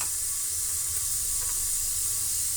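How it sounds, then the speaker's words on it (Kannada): Oil and mustard seeds sizzle in a pan for a sambar tempering, a steady close crackling hiss that runs unbroken and fairly loud with no voices. "ಈಗ ಸಾಂಬಾರಿಗೆ ಒಗ್ಗರಣೆ ಕೊಡೋಣ"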